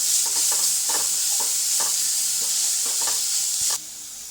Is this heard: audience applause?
no